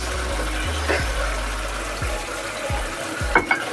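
Fried meat gets stirred into a simmering spice masala for biryani, a steady sizzle with scraping and clinking of a spoon against the pot at intervals, close and alone without talk.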